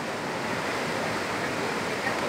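Đắk G'Lung waterfall in An Giang, a steady broadband rush of falling water, even and continuous, with no voices.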